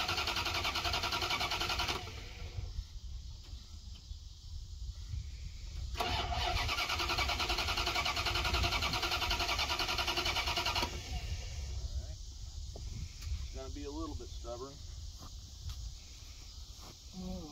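A fuel-injected 1990 Dodge Ramcharger 2WD engine cranks on the starter in two long, loud bursts separated by quieter stretches, with faint clicks and rustling after the second attempt and no one talking.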